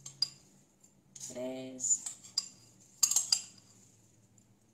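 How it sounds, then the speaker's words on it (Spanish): Four tablespoons of oat flakes tipped into a pot of water just coming to the boil for porridge, heard as a few close metallic spoon clinks and knocks against the pot, with a short spoken phrase between them. "Añadimos ya que empieza a hervir las 4 cucharadas soperas de copos de avena."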